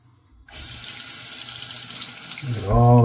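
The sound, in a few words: water running from sink tap while rinsing razor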